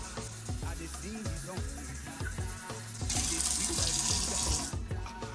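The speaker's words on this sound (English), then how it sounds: "So we're going to be adding the water." Warm water runs from a tap and splashes into a container for puff-puff dough, growing louder and brighter midway, with no one talking.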